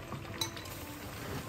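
Glasses touch once in a single bright clink during a New Year's Eve family dinner in rural Hubei, set against a soft room hum.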